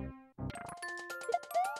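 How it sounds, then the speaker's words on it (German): Deep bell-like chimes ring out in Super Mario Maker 2 amid busy game music, a quick cluster of tonal dings and jingles over about two seconds. "Dieses tiefe Glockengeräusch. Ich mag das."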